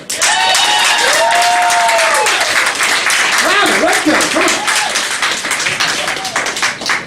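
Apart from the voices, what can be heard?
comedy club audience applauding a comedian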